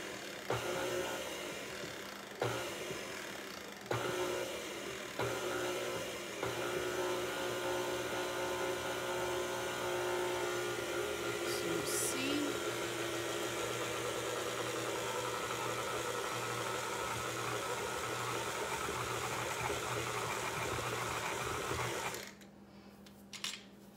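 A stand mixer runs on slow speed while mixing royal icing, a steady mid-pitched motor hum with faint rhythmic clatter that holds constant for most of the stretch, then cuts out near the end.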